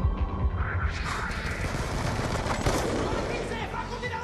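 Dense gunfire from a Black Ops 2 firefight in a first-person shooter, a steady loud barrage of shots with explosions mixed in, continuous for a few seconds under faint game noise.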